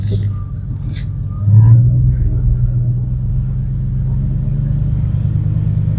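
A 2005 Ford F-150 pickup drives in two-wheel drive with the window down, a steady low engine and road rumble that swells briefly early on, with faint voice sounds over it.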